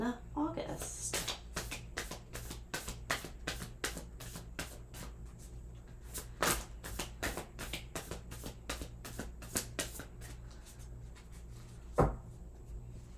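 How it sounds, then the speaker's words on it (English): A Moonology Oracle card deck is shuffled by hand in quick repeated riffles and flicks, a steady crisp papery rhythm close up with a sharper snap near the end, while someone talks quietly. "Let's shuffle again."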